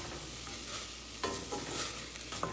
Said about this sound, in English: we're sauteing these vegetables in nothing but their own juices